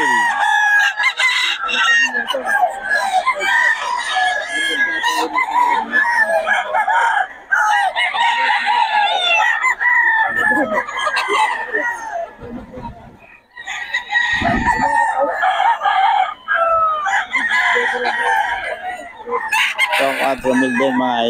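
Pumpkin Sweater gamefowl roosters crow repeatedly at a market in Bocaue, loud, overlapping cock-a-doodle-doos with clucking in between, filling the whole stretch, and occasional voices in the background.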